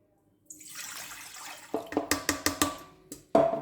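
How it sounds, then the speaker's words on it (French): Water for pizza dough being poured into a mixer bowl, a close splashing stream, then a series of short clinks and knocks and a final splash. "Donc là on va mettre l'eau en premier."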